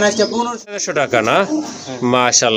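Pigeons in a loft kept for breeding and sale give soft, rising and falling coos close by, mixed with voices talking over the birds.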